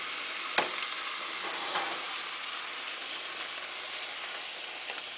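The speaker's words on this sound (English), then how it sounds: "you're going to just kind of mix it all together" A chili pie mixture cooks in a pan with a low, steady sizzle, while a spoon stirs it with a sharp clack early on and a few softer scrapes afterward.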